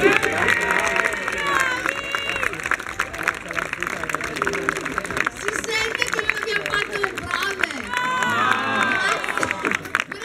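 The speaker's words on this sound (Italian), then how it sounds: "Grazie, un altro applauso." Audience at an April 25 outdoor concert applauding and cheering, a crowded mix of clapping, whoops and voices that swells near the start and again toward the end, with people talking throughout.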